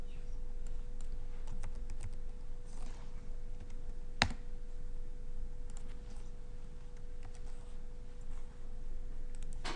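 Typing on a computer keyboard during a web programming lesson: a steady run of light key clicks close up over a constant hum, with one sharp louder keystroke near the middle.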